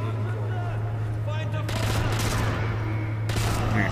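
Thompson submachine gun fire in the WWII shooter Sniper Elite V2, heard as dense bursts of automatic gunfire. The shots run through the whole clip over a steady low hum, with game voices mixed in.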